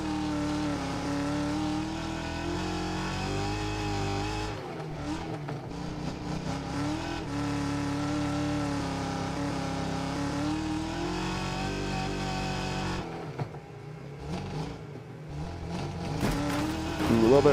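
A race car in the video game Wreckfest 2 holds a loud, steady engine drone on a flying lap. Revs rise and dip through gear changes and corners, with brief tire noise, and no voice over it.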